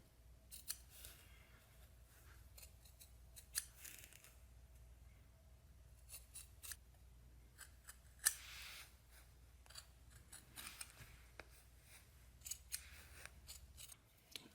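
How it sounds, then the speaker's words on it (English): Sharp scissors snip through sheepskin close by, a quiet series of irregular crisp cuts and rustles of wool, some louder snips standing out over a faint low hum, with no speech. "a nice pair of sharp scissors works best for me"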